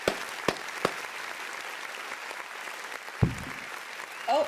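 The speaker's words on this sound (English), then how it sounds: "Let's give them a round of applause." Faint, thin applause from a small webinar audience honoring a team, with a few scattered claps over a steady hiss and brief speech near the end.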